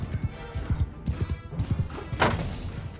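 Cavalry horses gallop in Mount & Blade II: Bannerlord with a rapid, rhythmic clip-clop of hooves in close, repeated bursts, broken by a sharp crash and battle thumps.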